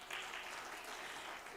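A conference audience in the main hall of a food forum gives a single short burst of applause, a dense wash of clapping held for a moment at moderate distance.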